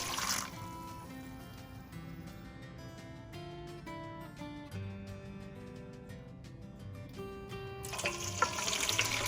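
Cold water pours into pickling brine in a bowl for quick cucumber pickles, a steady, fairly quiet trickle with ringing tones that swell into brighter splashing near the end.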